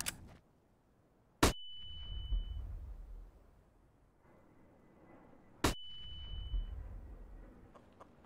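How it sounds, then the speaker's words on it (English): Two flashbang grenades go off in Counter-Strike on the Anubis map. Each is a sharp, loud bang followed by a thin high ringing tone and a low rumble that fades over a couple of seconds. "Flashbang out."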